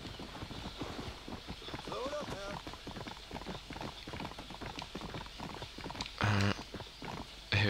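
Horse hooves clopping in the Red Dead Redemption video game, a steady run of close hoofbeats under continuous talk, with a brief louder burst near the end.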